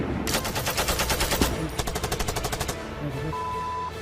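Rapid bursts of automatic gunfire, fast rattling shots in quick succession, moderately distant, with a short pause between bursts.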